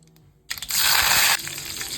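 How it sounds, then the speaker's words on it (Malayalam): Mustard seeds drop into hot oil for a quick beef pickle, breaking into a sudden loud sizzle and crackle that holds briefly, then eases to a softer frying hiss. "അതിലേക്ക് നമുക്ക് കടുകിടാം കടുക് നല്ല കറുമുറ കറുമുറ പൊട്ടി തെറിക്കട്ടെ"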